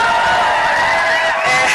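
A large crowd cheers and whoops with steady, loud applause for someone speaker at a news event, a dense roar of voices and clapping throughout.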